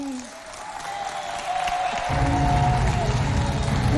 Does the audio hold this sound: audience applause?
yes